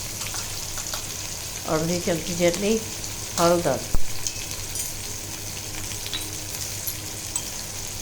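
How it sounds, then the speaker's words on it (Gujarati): Spices, red chili powder, turmeric and salt, sizzle as they sauté in oil in a pan for a Gujarati sour mango dal, a steady frying hiss with a few stirring scrapes, while someone talks over it. "એને પણ આપણે 2 મિનિટ માટે સાતળશું."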